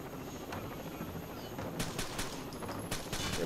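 Gunfire in the shooter game Rainbow Six Vegas: a quick burst of several sharp shots in close succession over a steady background rumble, moderately loud.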